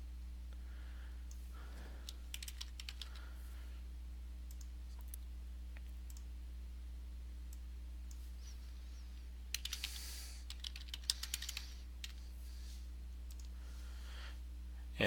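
Keyboard keys clicked in short irregular bursts over a steady low electrical hum, a few louder clusters of keystrokes near the end while someone edits terms in a presentation.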